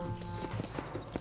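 Horse hooves clip-clop in a brisk, regular rhythm in the Red Dead Redemption video game, with game sounds and faint voices underneath.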